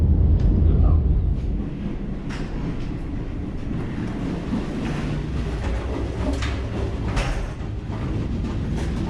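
Douro Valley railway train in Portugal running, heard from inside a carriage with wooden tip-up seats: a continuous low rumble and rattle with faint track clicks, steady and close.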